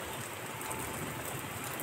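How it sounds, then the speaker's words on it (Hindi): Sudden heavy rain falls outdoors as a faint, steady, even wash of noise with no distinct drops or voices, constant throughout. "बारिश बहुत ही तेज़ हो गई है"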